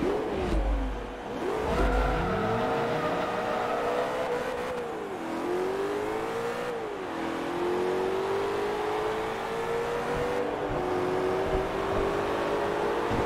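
A BMW M3 GTR race car in the Forza Motorsport 3 racing game drives with a loud, continuous engine whine that climbs and drops repeatedly through gear changes, close and steady throughout. No one speaks.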